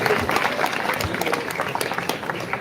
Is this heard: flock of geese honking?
no